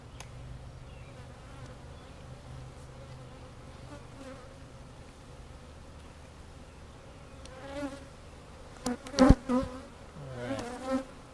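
Honey bees buzz steadily during a hive inspection, a soft continuous drone near the frames that swells louder toward the end as bees fly close past.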